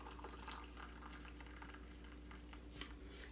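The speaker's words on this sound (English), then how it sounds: "Fill this up, top it off with the rest of my water," Water pours steadily into a container, a continuous splashing fill heard close up with no talking.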